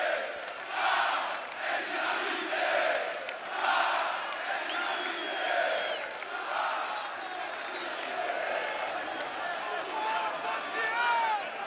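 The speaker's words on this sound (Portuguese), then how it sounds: "o Roberto, que agora é ovacionado pela torcida" Football stadium crowd at a 2011 Copa do Brasil match between Coritiba and Vasco gives a player a sustained ovation, a dense, steady roar of cheering and chanting that swells and dips throughout.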